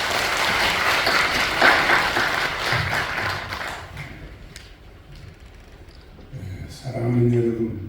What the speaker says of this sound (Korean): 우리 하나님께 영광의 박수 한번 돌려주시겠습니다